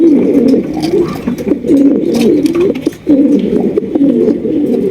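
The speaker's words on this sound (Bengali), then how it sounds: "একজোড়া আমেরিকান অরিজিনাল অ্যান্ডোলজিয়ান ফ্যান্টাল কবুতর" A pair of large American Andalusian fantail pigeons of matching colour coo loudly and close by, repeated throaty rolling calls running almost without pause, with one brief break near the middle.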